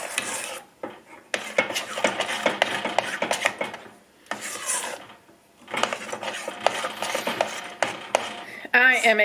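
A spoon scrapes and clinks against a pot while chocolate chips melt down for fudge, the metal-on-pot scraping coming in intermittent bursts with short pauses between, close and fairly clear.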